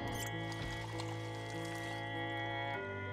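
Water pours into a tumbler in the Project Zomboid video game, a short, steady trickling pour over a sustained tonal game hum, with no voices.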